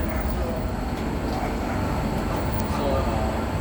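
SMRT metro train rumbling at a station in Singapore, a steady broadband roar of wheels and motors at moderate distance throughout the short stretch.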